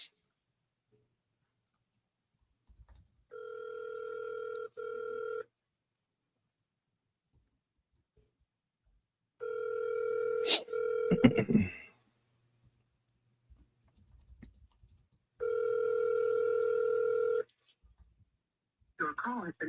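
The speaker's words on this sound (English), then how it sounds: "I'm dialing Vernell." A telephone ringback tone sounds in three long bursts separated by silences while a call is placed out, with a brief click or handling noise between the second and third rings.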